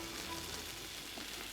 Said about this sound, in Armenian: Հիմա ավելացնում ենք սոխը, որպեսզի ճտի հետ մի քիչ տապակվի։